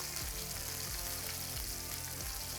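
Chicken piccata meatballs frying in neutral oil in a pan give a faint, steady bubbling sizzle. A low, rhythmic hum runs underneath, and no one speaks.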